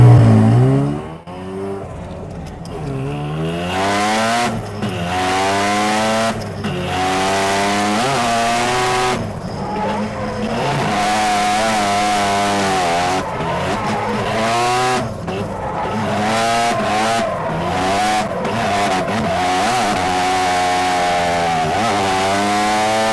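Drift car at a D1 divisional event on the YZ East course at full throttle, engine screaming and bouncing off the limiter in rapid rising sweeps with tire squeal, loud and close, no talk.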